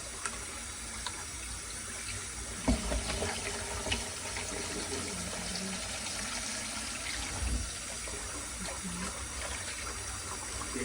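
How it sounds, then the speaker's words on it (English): Tap water runs steadily while rice is rinsed in a kitchen, a continuous close splashing flow with occasional knocks and swishes of the grains and pot. "I'm cleaning my rice."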